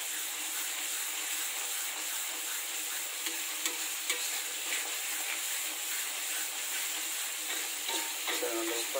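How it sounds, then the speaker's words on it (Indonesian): Food sizzles steadily in a pan while it is stir-fried with a little ginger in a home kitchen, a dense continuous hiss with occasional scraping clicks of stirring, close and fairly loud. "Jangan lupa digoreng-goreng ya"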